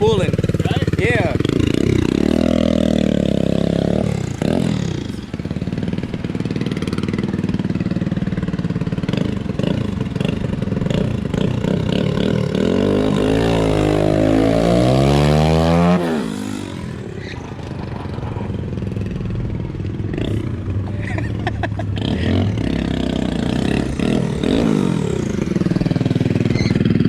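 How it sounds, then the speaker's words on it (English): A turbo Honda Grom motorcycle with a 300cc engine swap idles loudly nearby, then revs hard in one rising sweep with turbo spooling before settling back to idle, with people talking over it. "It's crazy because you can hear it spooling up and everything."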